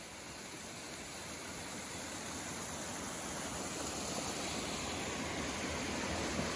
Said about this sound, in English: We're on top of the waterfall now.